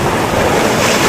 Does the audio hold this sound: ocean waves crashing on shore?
yes